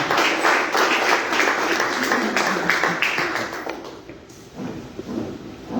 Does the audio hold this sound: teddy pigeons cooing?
no